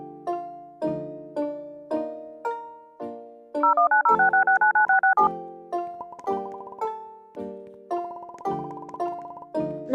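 Emergency telephone in the AirPlane video game being dialed, a regular series of clear electronic keypad tones, one every half second or so, with a brief rapid burst of tones midway, loud and isolated.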